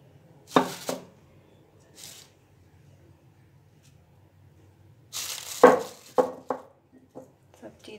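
Coarsely ground moong dal is stirred together with spices for vada batter, giving a few scattered soft, squishy bursts of mixing at close range with quiet gaps between them.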